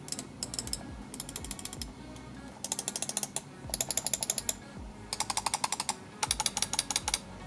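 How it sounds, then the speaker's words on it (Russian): Button clicks from a Hator Vortex EVO gaming mouse with Amron switches, heard as rapid bursts of crisp, close clicking separated by short pauses, with no talking. "Громкость нажатий стала выше в сравнении с предшественником, но тише в сравнении с Logitech MX Master."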